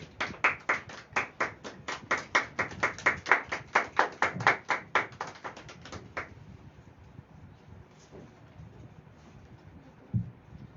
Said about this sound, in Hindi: आइए जब वो आते हैं तो हम तालियों के द्वारा उनका स्वागत करते हैं